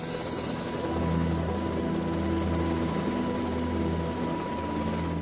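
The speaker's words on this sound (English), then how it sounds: "The helicopter is the undisputed champion of the injured and the sick." A helicopter flies steadily with a loud, droning rotor hum and engine whine, alone without voices.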